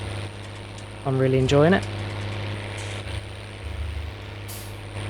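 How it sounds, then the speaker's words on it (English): A Mercedes-Benz Trac tractor in Farming Simulator 19 runs its engine at a steady, moderately loud idle throughout, with a brief rise around a man's spoken words and a short hiss near the end. "Got some good engine sounds. I hope they're not too loud"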